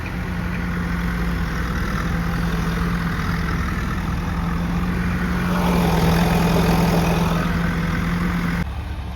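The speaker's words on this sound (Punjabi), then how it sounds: "ਬਹੁਤ ਜ਼ੋਰ ਲਾਉਂਦਾ ਟਰੈਕਟਰ ਇਹ" A heavy turbocharged Swaraj tractor engine drones steadily at close range, labouring throughout on earth-filling work, its pitch and loudness rising for a stretch before settling.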